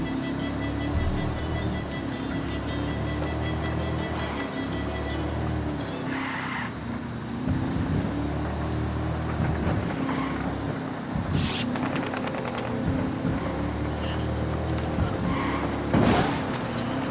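Car driven in the video game Ghost Recon Wildlands, with a steady engine drone rising and falling across shifts, occasional tire squeals and skids, and a sharp bump near the end.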